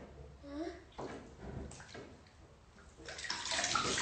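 Bath water runs from the tap into a tub while a child is washed, a steady splashing rush that swells toward the end, under an adult and someone talking.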